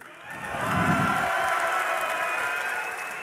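An esports arena audience at the DreamHack Winter 2012 grand final raises a brief, loud cheer, a swelling roar of voices and whoops that rises quickly and holds for a few seconds.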